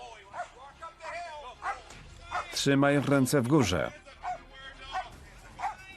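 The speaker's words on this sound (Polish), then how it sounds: "Nie szczujcie mnie psem." A police dog barks and then lets out a long, rising whimper during an arrest at the end of a car chase, close by, between officers' shouted commands.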